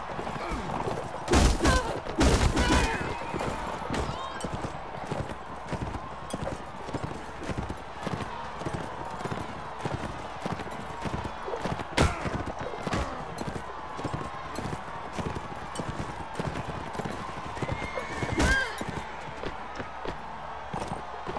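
Horses galloping in the video game Mount & Blade Warband during a tournament, a continuous rhythmic clip-clop of hooves with a few sharp louder hits mixed in.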